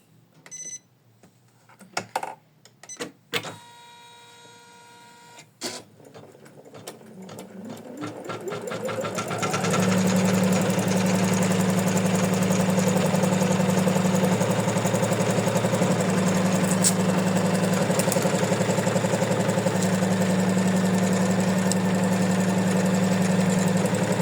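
An embroidery machine stitches a placement line for a sequin bookmark, its motor ramping up after a few clicks and then running in a steady, loud, fast rhythmic whir.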